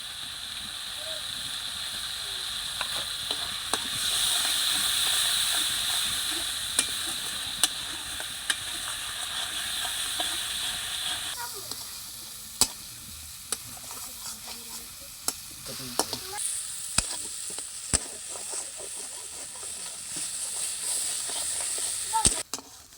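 Spice powder frying for a country-chicken egg curry, a steady hissing sizzle in a pan with repeated sharp spatula clacks and scraping strokes throughout, close up, with some talk faintly underneath.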